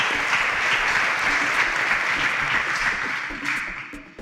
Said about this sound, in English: A round of applause for Destiny.